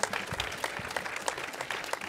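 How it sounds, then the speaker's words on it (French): Steady applause from a crowd, many hands clapping at once for a couple of seconds, with a few louder claps standing out. "on peut applaudir Super Lingod,"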